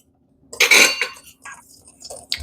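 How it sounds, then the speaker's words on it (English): A whisk works through dry cake ingredients in a bowl, making a short burst of close metallic clinks and scrapes against the bowl, then a few lighter taps. "So I'm going to whisk all that together."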